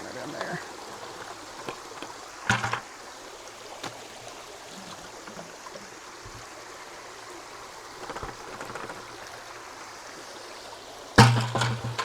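Muddy clay water is poured into a gold-mining pan, a soft continuous trickle and slosh under a quiet background, with a few louder splashes and knocks near the start and a sharp clatter near the end.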